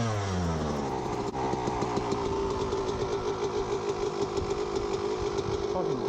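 A dirt bike engine idles steadily while warming up on a frozen lake, a continuous nearby putter with rising and falling harmonics throughout, with a voice talking over it at times.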